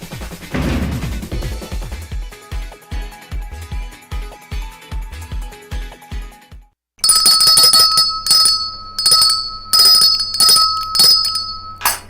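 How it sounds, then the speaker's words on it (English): A bell on a cafe morning show rings over and over in a rapid run of decaying strikes, stops briefly, then returns louder and brighter in a continuous, stuck-sounding clatter of rings, with no talk. "My bell got stuck."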